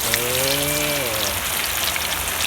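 Rain falls steadily during outdoor cooking of fried larb, a dense hiss of drops on surfaces throughout, with a brief voice heard in the first second.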